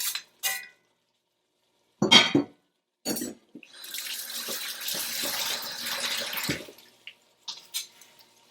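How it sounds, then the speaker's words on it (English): Curry goat simmering in a pot on a stove turned up to high: a few short clinks, then several seconds of steady close bubbling and hiss, followed by more scattered clinks, with no voices. "let that bubble and cook"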